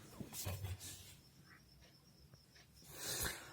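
Pen or marker strokes scratching out a formula for an arithmetic progression problem in a math lesson, a few faint, close scribbling bursts separated by brief pauses, with soft room noise and no clear talking.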